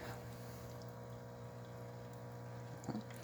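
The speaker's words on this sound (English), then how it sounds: "As you can see, the machine is rinsing fine as well too. Nice steady stream coming out from both spouts." DeLonghi espresso machine rinsing, with water streaming steadily from both spouts under a constant pump hum, all continuous and close with no voices.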